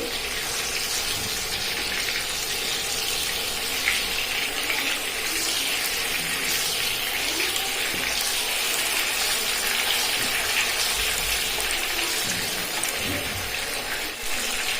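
Koi fish frying lightly in a pan, a steady, fairly loud sizzle and crackle of oil running without a break and no voices over it.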